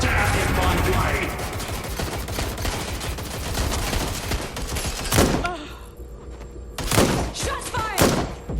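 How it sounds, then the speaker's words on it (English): Heavy gunfire from the Watch Dogs Legion video game, dense rapid bursts of shots for the first five seconds, then a few loud separate blasts and impacts with quieter gaps between them. "Shots fired!"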